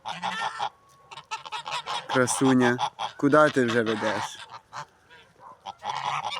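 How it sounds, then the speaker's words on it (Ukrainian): Domestic geese, a farmyard flock led by an old goose, honk in loud bursts close by, with harsh repeated calls in the middle while someone speaks softly to them at the start and end. "Оця моя сама стара гуска вперед вже веде їх."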